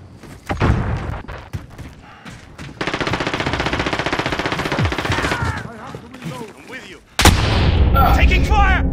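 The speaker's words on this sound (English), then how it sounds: "Taking fire!" Gunfire in Call of Duty Modern Warfare: sustained automatic bursts with booming impacts, loud and dense, broken by short lulls and a sudden heavy blast near the end, with players shouting over the shooting.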